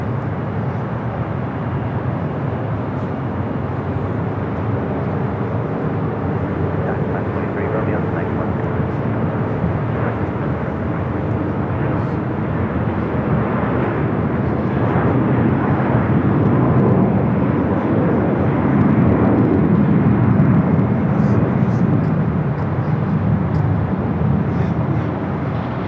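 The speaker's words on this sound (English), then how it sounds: "heavies to the action. A Delta 767." A Delta Boeing 767 jet airliner at LAX, a steady broad roar of jet engines that swells toward the middle and stays loud throughout, with a faint radio voice in the background.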